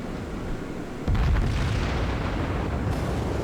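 Heavy naval gunfire from warships in a World of Warships–style game: a sudden deep boom strikes about a second in and rolls on as a sustained rumbling roar.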